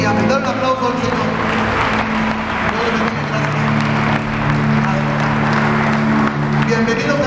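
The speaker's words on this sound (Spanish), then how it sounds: "Dar un aplauso al Señor." A church congregation claps together in a dense, loud, continuous wash of applause, with voices and a held tone mixed underneath.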